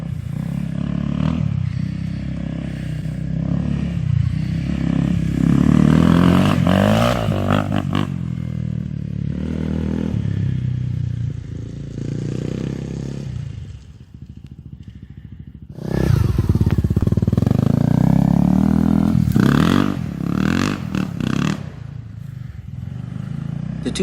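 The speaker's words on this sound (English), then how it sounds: "In this video you're going to watch me rip around on my 2014 Honda CRF 250L." A 2014 Honda CRF 250L dirt bike ripping along off-road bush trails, its single-cylinder engine revving and surging through gears with clatter and wind buffeting, one brief dip in throttle mid-ride.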